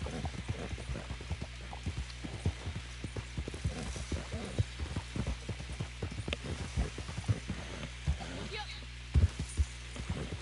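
Rapid, steady clip-clop of horse hooves trotting in the video game Red Dead Online on PlayStation 4, a continuous rhythmic patter with occasional louder thuds, with background sounds throughout.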